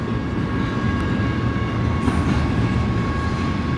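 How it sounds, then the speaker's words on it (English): An eastbound train rolls past close by at the Baker Street crossing at East Truxtun Avenue, Bakersfield, California, a steady heavy rumble of wheels on rails with faint metallic ringing tones over it. "That train's headed eastbound."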